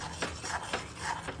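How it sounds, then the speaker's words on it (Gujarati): A spoon stirs sev masala into a dish of sev usal, giving about five quick scraping, clinking strokes against the pan in a steady rhythm, close and clear with no talking. "હવે આને આપણે સરસ રીતે મિક્સ કરીએ"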